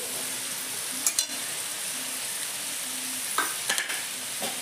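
Mushrooms hitting spiced oil in a pan, giving a steady close sizzle and frying hiss with a few brief clatters of stirring.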